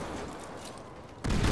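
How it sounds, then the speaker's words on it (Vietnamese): A grenade launcher firing in GTA 5, a steady rumbling blast bed followed by one loud, sharp burst near the end, with no talk. "Súng phóng lựu nè, tiêu hủy toàn bộ hàng hóa luôn"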